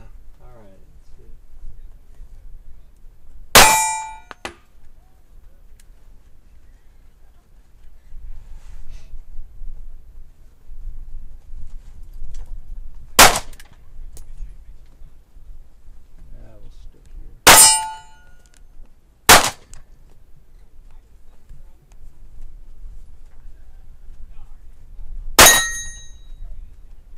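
Shots from a SCCY DVG-1 striker-fired pistol ring steel targets at a range. Five sharp, bright metallic clangs are spaced seconds apart, with people talking quietly between them.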